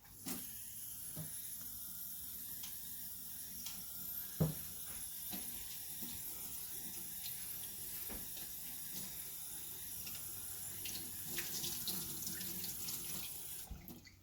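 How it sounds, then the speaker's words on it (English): Soapy water runs from a tap into a bottle during a resin lamp project, a steady hissing, splashing flow close by with a few small clunks along the way. "Let me get some soapy water down in there."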